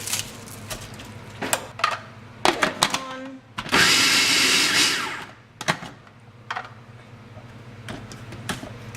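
A food processor chops cabbage and carrot in a loud, whirring burst lasting about two seconds, set among clattering kitchen handling noises and a person talking.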